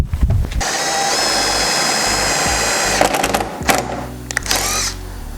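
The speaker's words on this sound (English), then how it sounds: "we're gonna have to go to a 932 drill bit and then open up these holes" A power drill with a 9/32 bit whirs at high speed for a few seconds, then stutters and stops in short bursts as it opens up holes in carbon fibre Mustang trunk parts.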